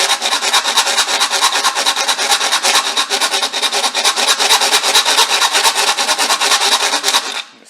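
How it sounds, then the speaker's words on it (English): A file rasps steadily into a Range Rover L405 roof rail to cut a channel, its rapid back-and-forth strokes loud and close, continuous for several seconds before stopping abruptly with no talking. "See how easy that files."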